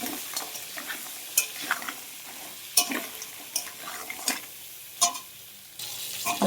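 Crab pieces fry in a pan while a spatula stirs them, scraping and clattering in irregular bursts over a continuous close sizzle.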